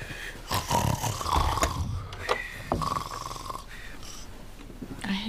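A person snores on purpose, a deliberate imitation rather than real sleep: a series of rough, rasping snore breaths, close and moderately loud, coming in uneven bursts.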